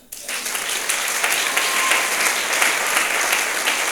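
A church congregation breaks into applause to praise the Lord, a sudden burst of steady clapping from many hands that fills the room and holds for several seconds.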